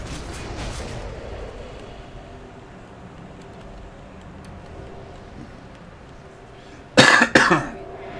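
A short, loud cough in two quick bursts near the end, after a long stretch of quiet background hum during a World of Warcraft Molten Core raid.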